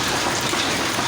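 Heavy rain mixed with hail pounding down in Cyprus, a dense, steady hiss and clatter close by with no let-up and no voices over it.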